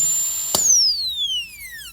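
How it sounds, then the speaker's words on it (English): A dental burr cuts a molar during full metal crown preparation, giving a steady high-pitched whine that steps up sharply for a moment and then falls slowly in pitch as the drill winds down. "Now only half of the burr will go inside."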